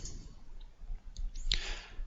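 A single sharp computer mouse click on an OK button in a Google Earth dialog box, one quiet tick near mid-clip over a faint room hiss.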